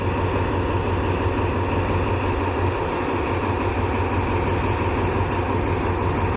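A train arriving at Na Muang station in Songkhla, Thailand, rumbles steadily with a low engine drone and continuous wheel noise, close by, with no voices.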